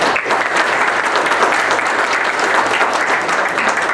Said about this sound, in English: I think they deserve a round of applause for doing that.